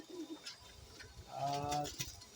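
A pigeon entering its loft gives a soft, low cooing call in a quiet outdoor setting, with faint rustling and a few small background noises.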